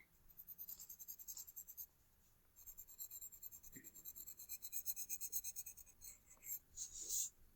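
A pencil or crayon scratches across paper in quick, rhythmic back-and-forth coloring strokes, close and quiet, with a short pause before the strokes resume and grow busier.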